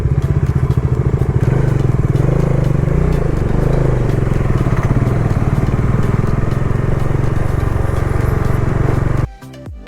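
Motorcycle ridden off-road on a rough, narrow trail from Umrongso toward the Meghalaya border in the Jaintia Hills, its engine loud and close with a steady throbbing note and clattering bumps, cutting off abruptly near the end.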